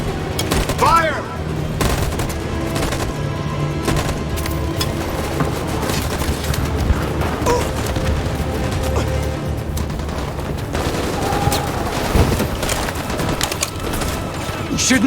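Gunfire from a firing squad in Detroit: Become Human, continuous loud volleys and rapid automatic shots rattling throughout, with shouting voices mixed in.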